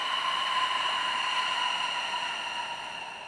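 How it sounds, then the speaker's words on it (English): A steady, airy breath streams out for a few seconds, a soft hissing exhale that slowly fades toward the end. "Long, slow exhale."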